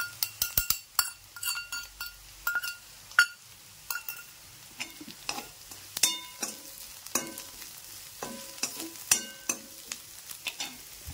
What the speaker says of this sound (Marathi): लाल मिरची चांगली तळून घेऊ आपण.